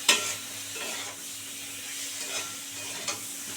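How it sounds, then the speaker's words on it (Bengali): Soft continuous sizzling of food frying in a pan for a pangas catfish and young jackfruit kalia, with faint scraping stirs now and then; no voices. "দু মিনিট ধরে এটা খুব সুন্দর করে ভাজা হবে"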